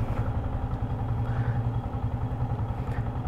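Yamaha MT15 motorcycle idling close by, a steady low throbbing engine note with a light mechanical clatter throughout, no talking.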